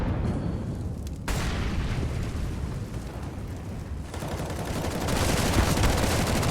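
Dense Counter-Strike rifle and SMG gunfire on the Vertigo map, a steady barrage of overlapping shots that grows louder and more intense near the end.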